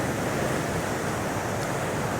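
Storm-churned ocean waves wash onto Divi Beach in Aruba, a steady broadband roar of surf with wind, continuous and fairly loud with no voices.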